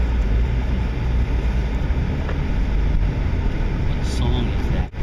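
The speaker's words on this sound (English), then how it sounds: "guess the song from the enormous bass beats from another person's car" Deep, booming bass beats thump from another person's car stereo nearby, a continuous loud low-end throb with muffled music on top.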